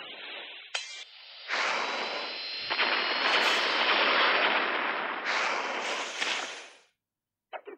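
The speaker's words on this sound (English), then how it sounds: "So that's a grenade!" Grenade blasts in a video game go off in a burst of loud, booming explosions that run together into a long roaring rumble, then fade out, followed by a couple of short sharp pops.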